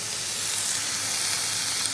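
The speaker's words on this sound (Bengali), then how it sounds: "জল দেওয়ার আগে সবজিগুলোকে খুব ভালো করে ভাজবো আমি।" Vegetables for a Bengali vegetable curry frying in a pan, a steady loud sizzle and hiss throughout with no breaks, close up and without voices.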